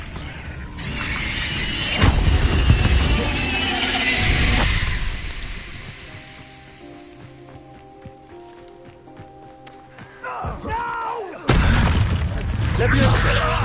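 In the Hogwarts Legacy video game, a Confringo explosion spell goes off with loud booming, crackling blasts at the start and again near the end, separated by a quieter stretch of game music, with a voice calling out.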